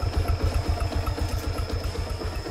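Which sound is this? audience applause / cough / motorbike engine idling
motorbike engine idling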